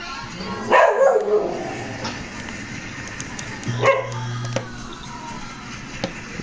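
A dog gives a short burst of yelping barks, followed a few seconds later by another brief yelp with a low hum underneath, close by against a quiet background.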